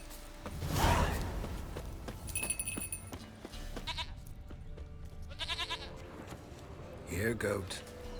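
A goat bleats in The Witcher 3: Wild Hunt, its wavering, stacked cries rising clearly at the start and again near the end, with other game sounds and a voice in between.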